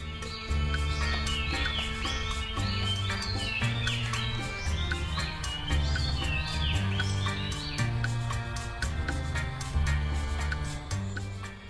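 Wild birds, including parrots, call and chirp continuously in bright overlapping tweets, set over steady background music throughout.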